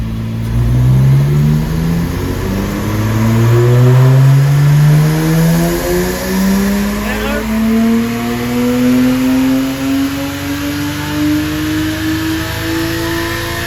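A Lexus IS200 engine revs at full throttle on a dyno, its pitch climbing steadily in repeated rising sweeps, loud and continuous with no talk.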